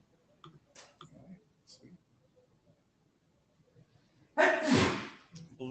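A single sharp sneeze bursts out near the end of a quiet room with faint clicks and rustles before it.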